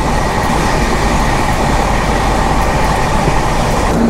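Continuous loud rumble and rattle of a passenger train running on the railway between Vellore and Howrah, heard from on board, a dense steady roar with faint wheel clatter and no voices throughout.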